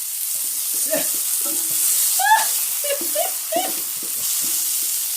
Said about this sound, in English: We are smoking now that I put the juice from the fire roasted tomatoes in there.